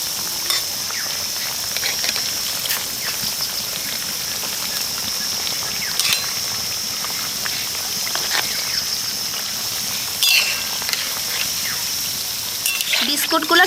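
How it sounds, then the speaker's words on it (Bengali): Wheat flour biscuits deep-frying in hot oil give a steady, close sizzle with fine crackling pops throughout, and the bubbling swells a little louder near the end as the pieces are turned. "উল্টে পাল্টে সুন্দর করে একেবারে ভেজে নিতে হবে"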